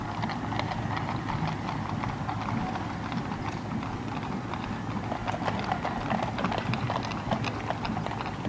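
Horses pulling royal carriages at the Trooping the Colour ceremony clip-clop along in steady overlapping hoofbeats, a continuous rhythmic clatter heard at moderate distance over a low crowd murmur.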